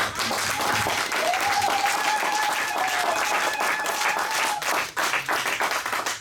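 A church congregation applauds, steady dense clapping holding throughout, with a sung or sustained voice rising faintly above it before the applause thins toward the end.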